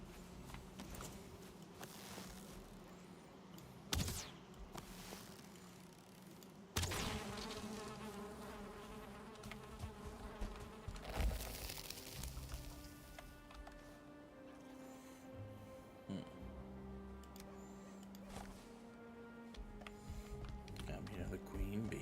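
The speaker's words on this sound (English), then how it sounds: "Do I hear a beehive?" Bees buzzing around a beehive in a video game, a continuous insect drone with scattered clicks and sharp game sounds under a player's talk.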